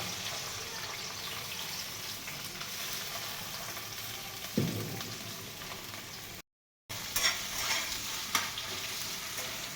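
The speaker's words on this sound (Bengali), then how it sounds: "এই কুচি করে রাখা পেঁয়াজটা একটু হাত দিয়ে এরম ছাড়িয়ে নিয়ে এই পেঁয়াজটা দিয়ে দিলাম" Chopped onion going into hot oil in a pan with bay leaf tempering, a steady close sizzle with stirring scrapes and a brief thud as it is added, no talking.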